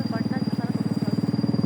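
A motorcycle engine puts along with a fast, even pulsing throb, close and fairly loud, while voices talk over it.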